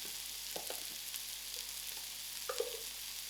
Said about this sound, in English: So I've got my frying pan on moderate heat.